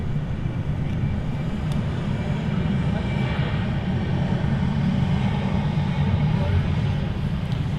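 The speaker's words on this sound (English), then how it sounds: "Air Portugal on the roll." An Air Portugal airliner makes its takeoff roll at Manchester Airport. The roar is steady, broad and rumbling, heard from a distance, and it holds level throughout with no break.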